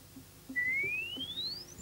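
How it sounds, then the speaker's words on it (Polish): A single clean loudspeaker test whistle tone sweeps smoothly upward in pitch for over a second, clear above faint low background hum. "Ten krótki gwizd umożliwia zbadanie czterech parametrów"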